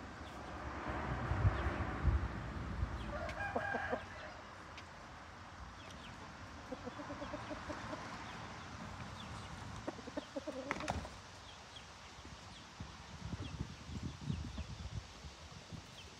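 An aseel rooster and hen cluck close by in soft, irregular bursts, mixed with rustling and light shuffling sounds, with no talking.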